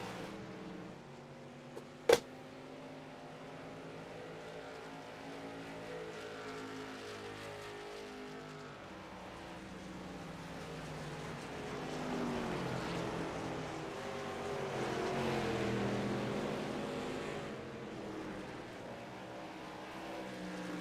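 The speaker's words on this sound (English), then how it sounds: "Jeremy Dunwoody still holding firm in that third place position in his number 13 Black Magic Designs car." Race cars circle a track, engines droning at a distance with a rising and fading swell as the pack passes, faint overall, with one sharp click early on.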